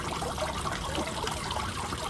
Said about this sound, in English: You can get a little bit stronger of a water flow, or just tilt it a bit.